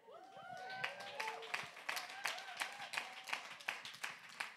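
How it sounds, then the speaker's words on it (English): Church congregation clapping during a Sunday morning service, a steady run of sharp, fairly close handclaps in an uneven rhythm, with a voice speaking over the opening seconds. "the people you hear clapping are the fanatics in the house"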